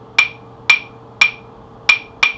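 Wooden claves struck over a hand cupped as a resonating chamber, giving five sharp, bright clicks in a son clave pattern, close and loud with no talking.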